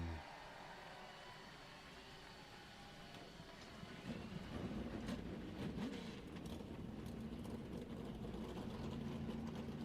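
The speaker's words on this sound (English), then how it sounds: "Drivers, start Your engines." NASCAR race car engines at Kansas start up and roar into a steady, growing drone, faint at first and then louder and fuller after a few seconds, with no talk over them.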